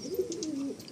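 A pigeon, from a flock of Madrasi and Malwai birds kept for sale, gives one soft, rolling coo close by, with no voices over it.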